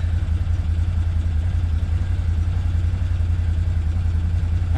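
Can-Am Defender UTV engine running at a steady idle, a loud, close, low throbbing rumble with an even pulsing rhythm that continues unbroken throughout.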